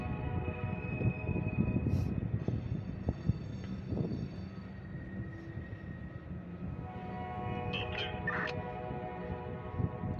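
Norfolk Southern locomotive climbing a hill blows its horn for a nearby crossing, sustained harmonic blasts over the steady low rumble of the train running close by, with no talk.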